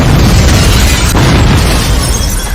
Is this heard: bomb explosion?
yes